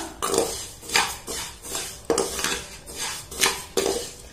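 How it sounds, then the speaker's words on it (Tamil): Vermicelli being roasted in a pan, with a utensil scraping and tossing it in repeated sweeping strokes about every half second, close and fairly loud, no talking. "அதனால நான் ஜஸ்ட் 1 நிமிஷம் தான் வறுத்து எடுக்க போறேன்."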